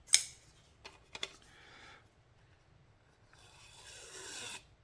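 A TWOSUN TS79 knife with a titanium handle and 14C28N blade on its factory edge makes a test cut. Short scraping rasps and a couple of sharp clicks are heard close by, then a longer soft slicing sound.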